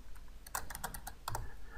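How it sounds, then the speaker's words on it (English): Brisk typing on a computer keyboard, with quick bursts of clicking keystrokes close up, a short pause midway, then a few more keys struck. "So let's type up a message real quick."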